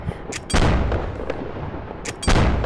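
Sniper rifle shots in the video game Rec Room come as two loud, booming cracks spaced about two seconds apart, each with a long rumbling decay.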